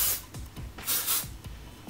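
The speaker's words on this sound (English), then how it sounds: "So I just spray it in quite lightly" Hairspray mists lightly onto curled hair in several short, soft hissing bursts, close and quiet, with brief pauses between each spray.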